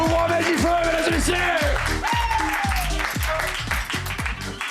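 Loud clapping, whoops and shouts from a comedy club crowd welcoming a stand-up comedian, layered over pounding walk-on music with heavy repeated bass beats that gradually fades slightly.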